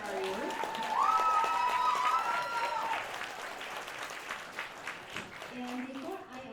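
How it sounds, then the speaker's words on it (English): A summit audience applauds a youth panel on mental health, with clapping that swells across the room while voices talk loudly over it and a melodic tone sounds briefly early on. "Can we get a round of applause for our youth?"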